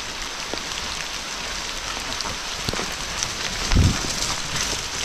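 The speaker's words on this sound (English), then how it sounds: "raining. Like hell." Heavy rain on a muddy bikepacking track, a continuous broadband wash of falling water with a brief louder rumble near the end, no voices.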